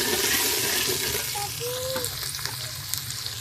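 Medium-sized sliced onions dropped into hot ghee give a loud, steady sizzle that fills the whole moment, easing slightly after the first second, with faint tonal squeaks over the frying hiss and no voices.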